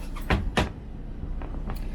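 A hinged wooden shower door is swung open, with two sharp knocks of wood close by followed by softer rubbing and creaking as it moves.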